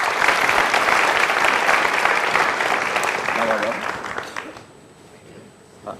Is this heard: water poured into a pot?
no